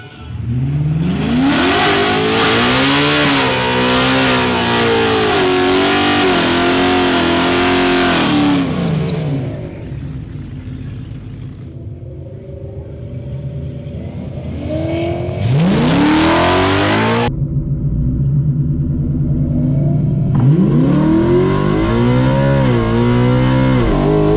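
A Ford drag race car at a Ford Nationals event fires up and revs hard, its loud engine climbing and dropping through repeated sharp blips, with a quieter idling lull in between and another burst of revving near the end.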